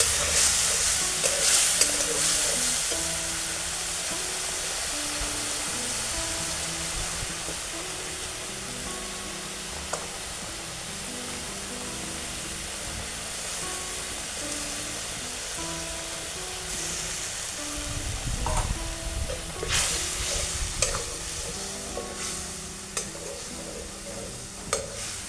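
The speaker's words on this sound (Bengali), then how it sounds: "এবার সেই মাছ ভাজা তেলে দিয়ে দিলাম 1 চামচ মতো কালো জিরে আর বেটে রাখা ধনেপাতাটা দিয়ে খুব ভালো করে কষিয়ে নেব।" Coriander-leaf paste and black cumin fry in hot oil left from frying fish, a steady close sizzle with stirring scrapes running throughout, louder bursts near the end.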